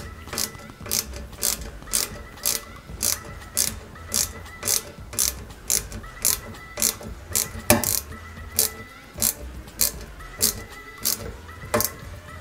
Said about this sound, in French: Et on y va pour la première vis centrale.